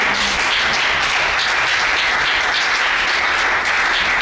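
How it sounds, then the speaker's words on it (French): A church congregation applauding in praise of the Lord: thick, continuous clapping from many hands, holding an even loudness throughout with no break. "Est-ce qu'on peut acclamer le Seigneur?"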